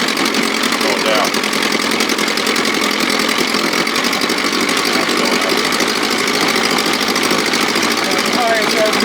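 A 1957 Sea King 5 hp outboard motor runs steadily in the start position, a continuous loud buzzing engine drone with a rapid even rhythm; a person speaks over it.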